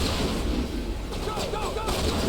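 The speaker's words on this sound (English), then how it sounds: "Open fire. Open fire!" Sharp gunfire cracks and heavy blasts rip through a firefight in the video game Mass Effect, with bursts clustering in the middle and near the end over a rumbling battle backdrop.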